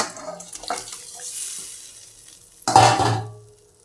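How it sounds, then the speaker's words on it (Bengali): Water splashes into a hot pan of katla fish curry with a sudden, loud hissing gush that sizzles and then tapers off, preceded by quieter clinks and stirring. "হয়ে গেছে, এবার আমরা জল দিয়ে দেবো"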